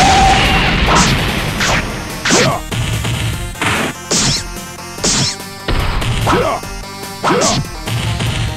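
Piccolo's Light Grenade attack from a Dragon Ball fighting game: a loud, continuous barrage of whooshing strikes, energy bursts and heavy impacts repeating roughly every second, with game noise dense throughout.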